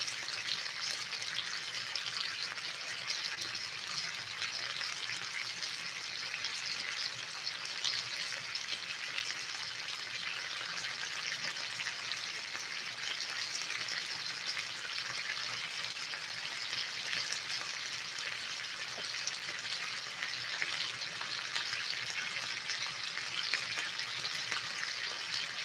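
Fish frying in a pan over a cooking fire, a steady, even sizzle held close and constant for the whole stretch with no talking.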